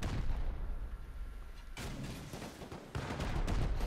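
Rocket explosions blasting walls in the survival game Rust, two loud, sharp booms with rumbling debris between them, over noisy background action.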